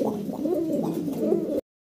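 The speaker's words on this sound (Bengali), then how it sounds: "হিউজ পরিমাণ কবুতর আছে" A large flock of pigeons cooing together in a continuous soft, burbling murmur close by, ending abruptly.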